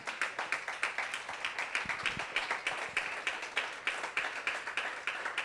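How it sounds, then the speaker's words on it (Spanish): A church congregation claps together in a steady, quick rhythm during a Sunday service, the sound filling the room evenly for several seconds with no voices on top. "Dale un aplauso al Señor."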